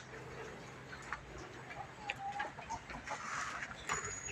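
Resident chickens and large roosters clucking in an evening yard at a Thai temple, scattered soft clucks and short calls at moderate distance over steady background hum, with occasional ticking sounds.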